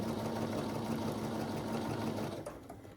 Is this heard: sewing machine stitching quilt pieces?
yes